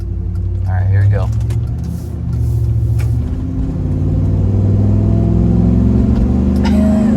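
A 2003 Chevy SSR's engine drones steadily and swells as the truck accelerates on the road, a loud, continuous low rumble that climbs in pitch with rising revs, with talk over it.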